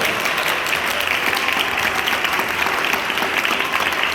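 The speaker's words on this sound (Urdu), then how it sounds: "زوردار تالیاں، زوردار تالیاں۔" Steady, continuous applause from a congregation at an Urdu-language Christian sermon, a dense wash of many hands clapping together with no voices on top.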